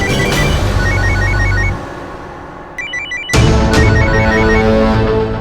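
A telephone rings loudly nearby in repeated electronic trilling bursts, which pause briefly and then resume.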